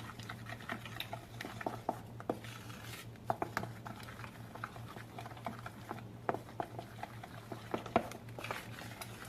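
Spoon stirring low-carb chocolate chip coconut muffin batter in a bowl, giving a steady run of soft scraping taps and clinks against the bowl over a constant low hum, close by, with no talk.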